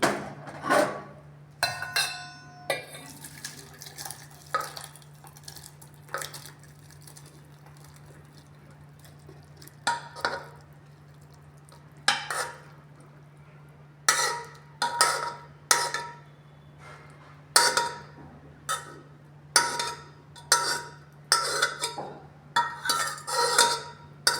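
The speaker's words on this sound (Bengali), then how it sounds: "এবার আমি এটা বাটিতে ঢেলে নিচ্ছি" Cooked bottle gourd, carrot and potato curry tipped into a bowl with a utensil, bringing a string of clinks and scraping taps against metal and ceramic, spaced out then quickening, over a low steady hum.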